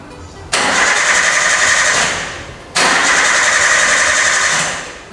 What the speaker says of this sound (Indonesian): ketika mesin di starter tidak bisa hidup